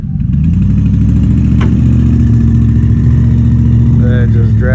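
A truck engine drones loudly and continuously, rumbling low and strained as the stuck off-road truck is dragged out of a hole, with voices briefly heard over it near the end.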